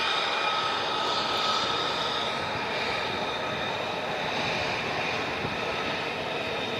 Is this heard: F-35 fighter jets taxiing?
yes